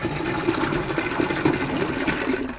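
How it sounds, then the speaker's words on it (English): Steady rushing of running water from an outdoor frost-proof hydrant, a continuous broadband hiss with a faint gurgling undertone, fairly close and moderately loud. "So we're going to run some water here."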